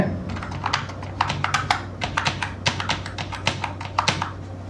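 Rapid, irregular clicking of keys on a computer keyboard, close up and steady, with a low hum underneath and no talking.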